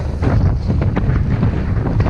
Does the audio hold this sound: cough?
no